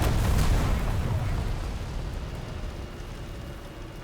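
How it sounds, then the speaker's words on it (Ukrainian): The ammunition rack of an M1A1 HC main battle tank explodes in a video game: a loud, sharp boom at the start trails off into a long, fading rumble. "Вибух боєкомплекту."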